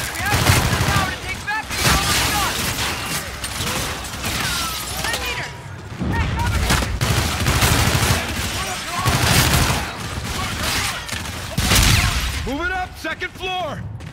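Dense, continuous gunfire and explosions from a futuristic space-combat battle in the video game Call of Duty: Infinite Warfare, with bursts of automatic fire under shouted voices throughout.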